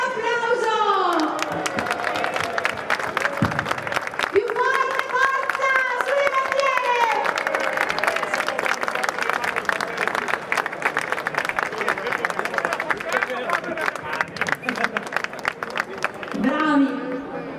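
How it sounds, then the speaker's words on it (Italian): A large crowd of farmers gathered at a rally in Rovigo applauds steadily for a long stretch, the dense clapping continuing beneath loud amplified voices shouting encouragement over the crowd. "Facciamoci un bel applauso!"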